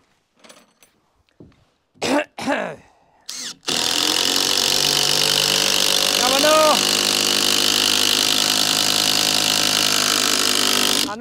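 Power drill driving screws into a timber garden room wall, a loud continuous whirring drive after a few short preliminary bursts, close by with a brief pitch change midway.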